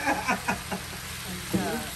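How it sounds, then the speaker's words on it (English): Ackee and saltfish being stirred gently in a sizzling pot for plantain cup appetizers, with a steady frying hiss and a few soft spoon scrapes and clinks spaced through the two seconds. "We're throwing Mr. Ackee in the pot."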